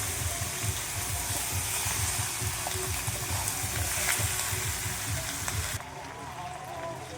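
Chicken sizzles and fries steadily in a pan with spices, a continuous crackling hiss with faint stirring scrapes, fairly close, then a quieter sizzle near the end.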